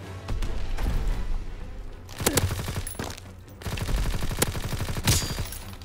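Rapid bursts of gunfire from a Call of Duty WWII team deathmatch, with dense volleys that repeat in rattling stretches and a few sharper single shots, loud and close throughout.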